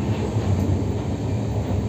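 A steady low rumble of a moving train to Puri fills the scene, a continuous close droning roar without distinct clacks or voices.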